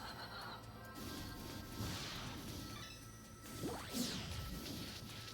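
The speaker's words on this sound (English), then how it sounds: "Smashing into surrounding enemies." Combat from the Zone of the Enders 2 video game as a mech smashes into surrounding enemies, faint crashes and whooshing sweeps with a sharper impact burst near the end, all at low level.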